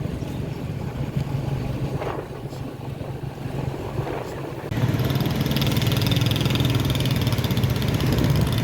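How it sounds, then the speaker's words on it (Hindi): A motorbike engine idles on a trip to a Rawalpindi bazaar, a low steady mechanical drone that jumps noticeably louder about halfway through and keeps running evenly. "तो अभी मैं बाइक पे ही जाऊँगी"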